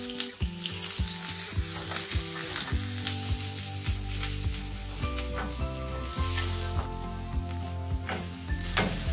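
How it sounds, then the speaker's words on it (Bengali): Onions and garlic fry in hot oil while being stirred, a loud, close, continuous sizzle with soft scraping stir strokes repeating steadily throughout, and no talking. "তো পেঁয়াজ রসুনগুলোকে আমি একটু নেড়ে চেড়ে ভেজে বাদামি করে নেবো।"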